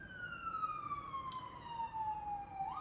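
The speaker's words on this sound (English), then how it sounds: "I don't know if you can hear that siren, but that siren is my jam." A fire truck siren wails in the distance, one long tone gliding slowly downward, fairly faint against a quiet background.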